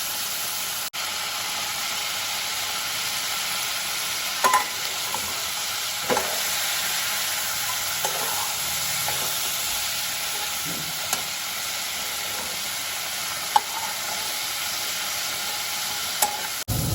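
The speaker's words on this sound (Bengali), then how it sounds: "লবণ হলুদ দিয়ে ভালো করে মাছগুলো একটু ভেজে নেব।" Fish pieces rubbed with salt and turmeric fry in a pan with a constant close hiss and sizzle, and occasional sharp clinks and scrapes from turning them.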